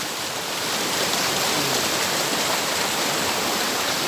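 Fast-flowing water rushes at Blue Rock Lagoon, a steady, loud broadband roar like a stream or small waterfall close by, continuous and unbroken for the whole stretch with no voices over it.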